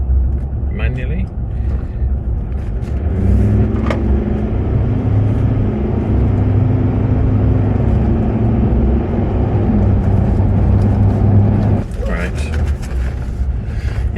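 A Range Rover drives along with a steady, loud engine and road rumble that holds throughout. Gear hum rises and falls, and brief clicks come near the end.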